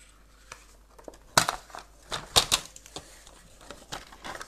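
A paper box template is cut by hand, giving a quiet run of close snips and crisp paper rustles, with a few sharper clipped cuts standing out.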